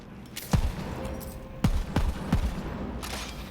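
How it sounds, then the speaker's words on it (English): Gunfire in the shooter game Borderlands 3, from a Hyperion shotgun: several sharp, loud shots in uneven bursts, each with a short boom and decay, spread over a few seconds against a low background hum. "The gun sounds are so good."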